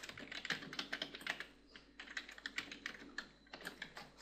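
Rapid clicking of HTML code being typed on a computer keyboard, in irregular bursts of close keystrokes with brief pauses between.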